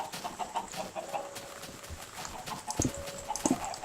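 Minecraft chickens cluck repeatedly at close range, short clucks scattered over a busy game background with faint clip-clop-like steps.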